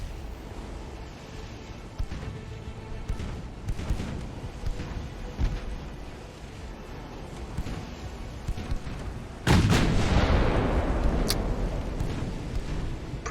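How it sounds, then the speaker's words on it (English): Battleship big guns firing in Ultimate Admiral: Dreadnoughts, a heavy booming blast near 9.5 seconds that rolls off slowly, with softer distant thuds and rumble of naval battle before it. "Precision on these big guns is terrible."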